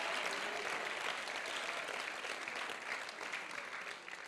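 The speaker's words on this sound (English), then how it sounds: "Come on, clap your hands and tell him thank you." A church congregation claps hands in thanks during a service, a continuous, even wash of many hands that holds steady before tapering slightly at the end, with no talk over it.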